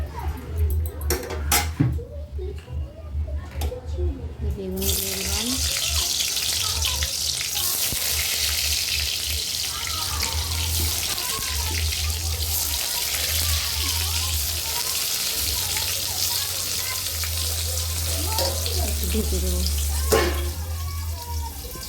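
Steady rushing wash of light rain with wind outside a home kitchen, continuous and fairly loud for most of the stretch, with a few brief clatters early on and faint voice sounds mixed in.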